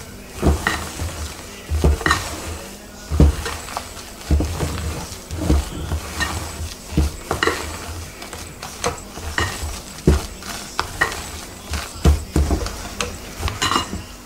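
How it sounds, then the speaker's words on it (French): A spatula or spoon folds a batter with beaten egg whites by hand in a bowl, making soft rhythmic scraping and tapping strokes about once a second, close and steady with no talking. "en coupant délicatement, on mélange tout ça"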